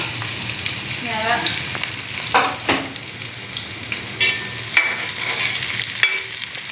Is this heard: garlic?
yes